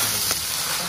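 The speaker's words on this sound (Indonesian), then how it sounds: "kis gorengnya lagi dimasak Mbak Siti." Crackers frying in hot oil give off a brief, steady sizzling hiss, close and fairly quiet.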